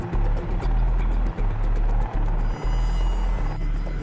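A VH-3 Marine One presidential helicopter flies with a steady, heavy rotor drone and rhythmic low thumping throughout, sounding fairly close and continuous with no voices.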